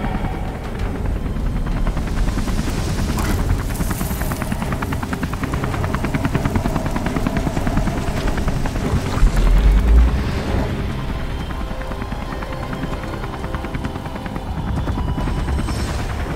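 Helicopter in the video game Beyond: Two Souls, a loud continuous rotor thump and engine roar held throughout with a brief heavier rumble midway, no speech.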